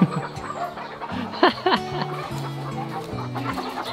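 Chickens on a small farm clucking near and fairly soft, a scatter of short clucks with a couple of sharper squawks partway through, over a light outdoor background.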